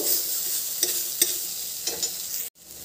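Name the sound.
frying and stirring pointed gourd with chana dal and onion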